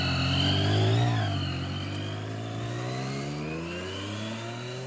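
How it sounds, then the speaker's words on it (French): A motorcycle accelerates toward top speed, its engine note rising through the gears with pitch sweeps and a brief peak early on, then settling into a sustained high drone as it pulls away. "Tu peux nous faire une petite démonstration de vitesse maxi avec cette moto?"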